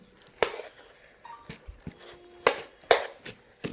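A metal spoon stirs warm tamarind rice pulihora in a vessel, giving irregular clinks and scrapes against the sides, some sharp and loud, with quieter scraping in between.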